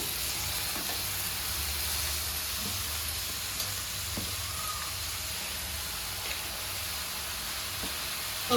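Chickpea palya hits a pan of frying chilli and garlic, raising a steady, even sizzle that holds for several seconds with faint stirring clicks and no talk.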